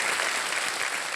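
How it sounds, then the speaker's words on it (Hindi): Studio audience on a television quiz show clapping, a dense sustained burst of applause heard alone. "जोरदार तालियां बज जाए उनके लिए"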